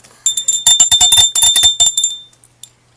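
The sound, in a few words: bell sound effect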